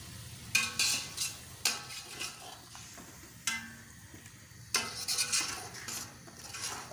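A spoon scrapes and knocks around a pot as about half a kilo of yogurt is stirred into a chicken, chickpea and potato biryani mixture, in repeated bursts of clattering strokes over a faint sizzle.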